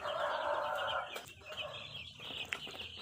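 Broiler chickens in a pen make a dense, close chorus of chirping and clucking that stays steady throughout, with a brief louder call near the end.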